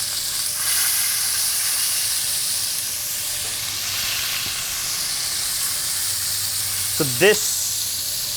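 Short ribs searing in a pan give off a steady, loud, close sizzle and hiss that lasts the whole time, and a voice speaks briefly near the end.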